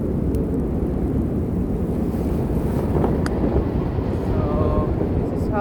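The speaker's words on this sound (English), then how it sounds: "I got crazy wind gusts." Strong, steady wind from a snowstorm on an Arctic hiking trail roars across the microphone, buffeting it with constant low rumble and occasional gusts, with no voices.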